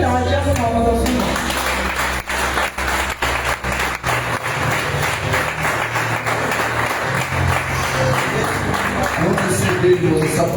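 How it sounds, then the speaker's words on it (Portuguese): A church congregation applauds at an evening service, steady sustained clapping filling the space at moderate loudness, with music and voices mixed underneath throughout. "nós vamos dar a oportunidade às palmas ao Senhor."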